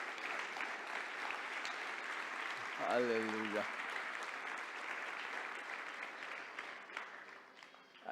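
A church congregation applauds in a steady, sustained clapping that runs throughout, and one voice briefly calls out over it midway.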